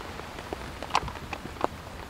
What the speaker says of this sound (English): The water is just beating right off of this tent.